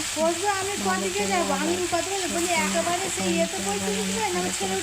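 Garlic and ginger fry with spices in a pan, a continuous sizzle and stir running beneath a person talking throughout.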